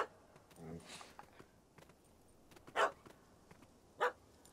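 A puppy in The Witcher 3 video game gives two short, sharp barks a little over a second apart. The barks come over a quiet game background with faint voice-like sounds near the start.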